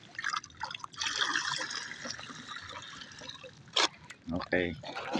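Water poured out in a rural field setting, a trickling, splashing stream under ongoing conversation, with a few louder bursts of voices near the end.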